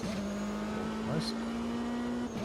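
Race car engine induction noise in Automobilista 2, a sim racing game, a steady loud droning tone held close throughout with a brief higher whine midway and a faint voice underneath.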